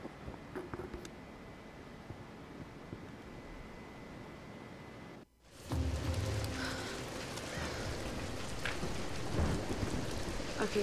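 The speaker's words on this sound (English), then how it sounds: "We're getting closer to the storm." Storm ambience in the Tomb Raider video game: a quiet, hissing wash of rain drops out for a moment, then returns louder and fuller with low rumbling as the storm closes in.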